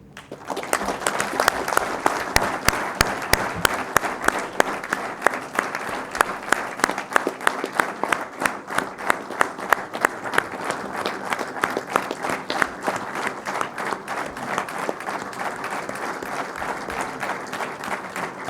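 Sustained applause from a seated audience at the inauguration of a collegiate engineering club, many hands clapping in a fast, dense patter that swells early and holds steady for the whole stretch.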